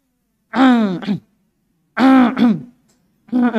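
A man clears his throat three times in close succession, each a voiced, drawn-out 'ahem' that is loud and near, with short silences between.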